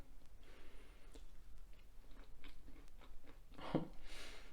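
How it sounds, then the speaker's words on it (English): Crunchy chewing of keto banana muffins, heard as a few soft, close bites and crunches at low level, with one sharper crunch near the end. "And the crunch is really good."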